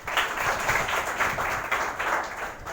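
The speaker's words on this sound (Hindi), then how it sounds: "ताली बजा जरा।" Village children clapping together at a health awareness gathering, a brisk, steady round of applause close by, lasting the whole moment without pause.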